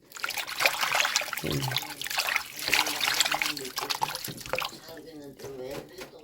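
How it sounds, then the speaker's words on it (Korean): Stonecrop greens are gently shaken and rinsed in a basin of water, producing close, steady trickling and sloshing with small splashes, while someone talks over it. "살살살살 흔들어서 여러 번 헹구면은 깨끗이 씻어지겠죠"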